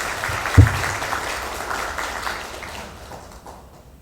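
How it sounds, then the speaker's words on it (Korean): An audience at a social welfare forum breaks into applause to welcome the speaker, a sharp clap at the start followed by steady clapping that gradually fades away. "큰 박수로 환영해 주시기 바랍니다."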